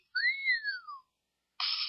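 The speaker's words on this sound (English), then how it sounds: "I've got wolf whistle." A wolf whistle sound effect from a phone app plays alone: a rising then falling two-part whistle, clear and close, followed by a short silence and the start of another sharp sound.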